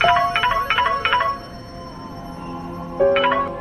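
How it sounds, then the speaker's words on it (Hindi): A phone rings with a repeated electronic ringtone in quick bursts that pause for a moment and then start again, clear and close. "फोन उठाओ"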